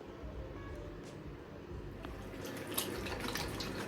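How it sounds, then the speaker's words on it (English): Warm water runs steadily from a bathroom tap as a bedtime skincare routine begins, a continuous close hiss and splash with faint drips, no voice over it. "I begin by running some warm water"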